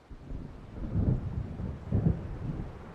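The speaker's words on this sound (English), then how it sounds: "It seems there's a storm coming." A thunderstorm in the Alan Wake video game brings deep rolling thunder rumbles, two heavier swells over a low, steady wash of storm noise, with no talking.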